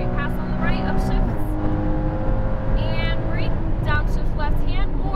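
Porsche 718 Cayman GTS working up through the gears on a race track: loud engine revs climbing in steps with each upshift, with a voice talking over the engine.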